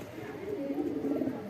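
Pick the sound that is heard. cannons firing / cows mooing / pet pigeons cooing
pet pigeons cooing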